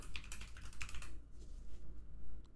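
Fingers tap a computer keyboard in quick, uneven bursts of clicky keystrokes, close and fairly quiet, with the typing thinning out partway through.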